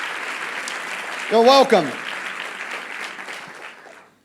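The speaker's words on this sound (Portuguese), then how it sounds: "Vamos dar uma salva de palmas aqui para os nossos irmãos" A church congregation applauds steadily through the whole span, a dense wash of clapping hands in a hall, while someone briefly speaks over it partway through.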